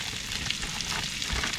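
Precooked baked potatoes browning in a Dutch oven give off a steady, close sizzle and crackle of frying, with no talk over it.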